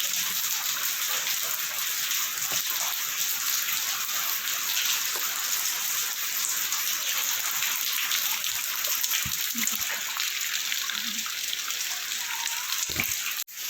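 Heavy continuous rain pouring outside a home on the second straight day of downpour, a dense steady hiss with occasional louder drips and splashes, near and unbroken, with no voices.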